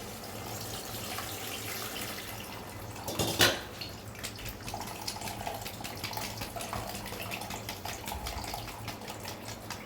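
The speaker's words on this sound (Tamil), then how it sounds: "அந்த புளியை இப்போ ஊற்றிக்கிறேன்" Tamarind water pours into a cooking pot while making a sundaikai kulambu, giving a steady liquid trickle with one brief louder splash partway through, heard alone without talk.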